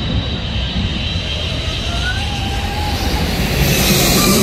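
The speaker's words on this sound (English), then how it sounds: "Tahiti Nui 8 Heavy 787 departing for" Air Tahiti Nui Boeing 787 Heavy jet departing LAX: a steady, loud broadband engine roar building slightly toward the end, with a faint rising whine, heard alone without talk.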